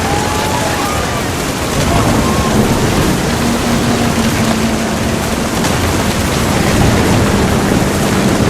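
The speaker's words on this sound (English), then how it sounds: "The thunder sounded much too close and full of angry power" Heavy rain pours steadily in the video game What Remains of Edith Finch, a dense loud hiss with low thunder rumbling underneath throughout.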